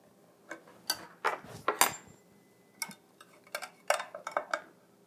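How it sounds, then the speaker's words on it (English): A kitchen knife is sharpened in a quiet kitchen, with a series of bright, irregular metallic strokes and scrapes in short bursts and no talking. "I think it's time to sharpen this knife."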